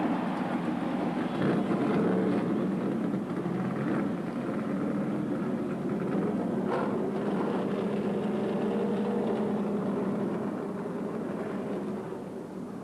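Many NASCAR stock car V8 engines firing up together at the 1989 Daytona 500, a broad continuous roar and rumble that stays loud and steady, crowd-filled and distant-sounding, with no talk over it.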